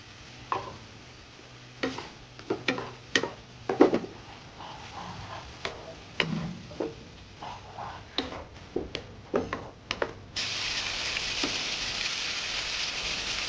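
Shrimp in a pan take a series of sharp scraping stirs and clinks, each with a brief crackle, before a steady, bright sizzle of frying settles in for the last few seconds.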